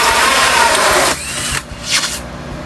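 A drill fitted with a 2.5-inch hole saw cuts through a plastic hydroponic lid: a loud, steady grinding whine for about a second, then it cuts off and a few brief rasping bursts follow.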